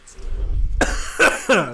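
A person coughs sharply a few times up close, with a rough throaty rasp, after a moment of low background rumble.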